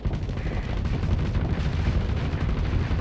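A heavy autocannon fires in space combat in a video game, a dense, continuous barrage of booming, rumbling shots that stays loud and even throughout with no talking over it.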